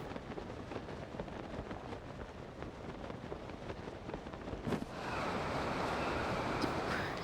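A big gust of wind sweeps through the video game Zelda: Tears of the Kingdom as a steady, broadband rushing roar that swells noticeably louder and brighter partway through, with no voices.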